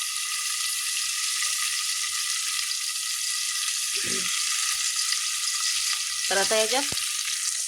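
Onion frying in a pan, a steady, bright sizzle and crackle holding evenly throughout, with someone speaking briefly over it near the end.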